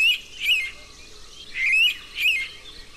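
Indian pitta calls in a Coorg forest, three clear whistled phrases spaced about a second apart, moderately near over a quiet background.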